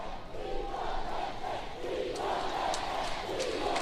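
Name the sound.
football crowd cheering in support of Timor-Leste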